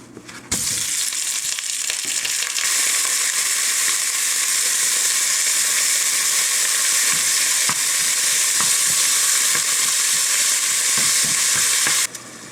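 Ground turkey hits a hot pan and fries with a loud, steady sizzle that holds close and constant for about twelve seconds, beginning and ending abruptly, with no talking.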